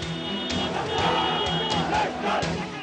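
Crowd at a political rally in Ganderbal, with many voices murmuring and calling out together at moderate distance in a steady, loud wash of noise.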